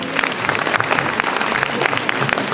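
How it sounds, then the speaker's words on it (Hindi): Dense, continuous clapping from a large audience at a university convocation ceremony, loud and sustained. "तालियां कम नहीं होनी चाहिए।"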